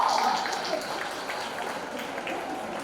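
A crowd at a social media awards ceremony in Eswatini claps steadily, a diffuse, moderately distant patter of many hands continuing for a few seconds after a brief voice at the start.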